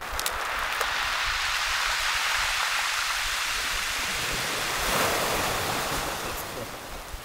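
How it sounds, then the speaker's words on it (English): Ocean waves wash steadily onto the shore in Baja, a loud, continuous surf roar with one slightly stronger swell near the middle and no voices. "and listen to the ocean."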